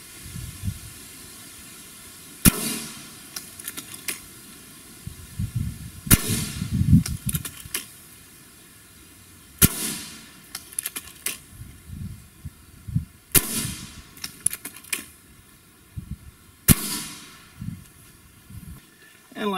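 A Gamo Swarm Magnum .22 air rifle fires Crosman hollow point pellets point blank into a car door: about six sharp cracks a few seconds apart, with handling rustle and impact noise between shots.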